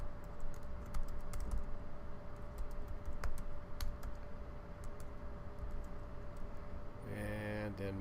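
Someone types an email address on a computer keyboard to sign into Google Chrome, a steady patter of faint key taps over a constant background hum, with a few sharper clicks near the end.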